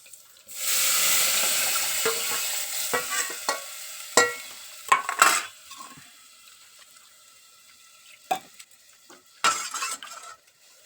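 Homemade village-style masala frying in hot oil while a utensil stirs it in a pan, giving a steady loud sizzle with scraping and clinking of the spoon against the metal, then quieter intermittent stirring clatters.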